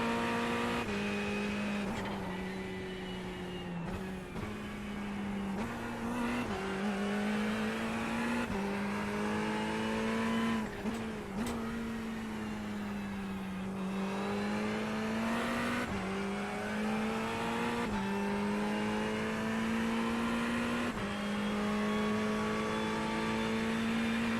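A Ferrari GT3 race car engine drones at high revs at Imola in the iRacing sim, its pitch rising and dipping through shifts and corners, a steady nearby in-car tone with brief gear-change breaks.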